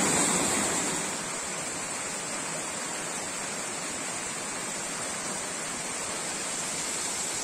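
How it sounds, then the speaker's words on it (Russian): Ephemeral waterfall on a river above Uchan-Su, a steady, dense rush of falling water heard from a distance, even and unbroken throughout with no voices. "увидел издалека еще один эфемерный водопад"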